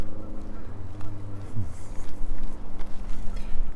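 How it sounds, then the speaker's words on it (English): Geese on Wascana Lake in Regina honk a few times from a short distance while someone walks along the lakeside path, with footsteps and outdoor background noise under the calls. "More geese, but still no baby geese."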